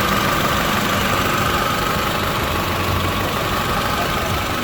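A Toyota Wish engine idles steadily with its air-conditioning compressor cycling, a continuous broadband running hum and whir heard close and alone without any talking.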